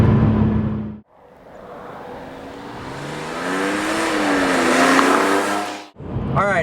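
A Porsche 911 997 Carrera S launches hard, its engine note climbing steadily through the revs with a loud, rising roar, cut off by brief gear-change gaps and followed by a second burst.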